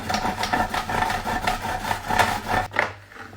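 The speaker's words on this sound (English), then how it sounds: "you just want to grate your carrots" Carrots being grated on the coarse side of a box grater, a rapid series of close rasping scrapes in a steady rhythm that stops near the end.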